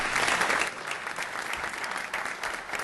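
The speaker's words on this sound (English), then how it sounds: "Have a nice round of applause for our scouts." Applause for the scouts fills a council meeting chamber, a dense, steady burst of clapping from the gathered audience lasting a few seconds.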